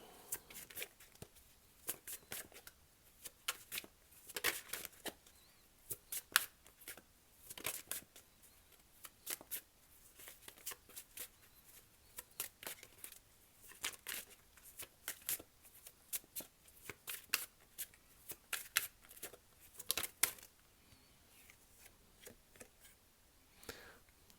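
Tarot cards being shuffled alone with no talk, a long run of quiet, crisp riffling and tapping bursts at an irregular rhythm, close and fairly soft.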